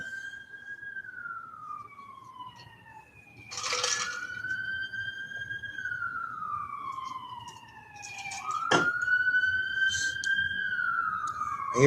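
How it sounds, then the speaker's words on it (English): A police siren wails in rising and falling sweeps as it passes along the street, growing louder toward the end over low traffic rumble. "I'll hear like cop cars going down the street"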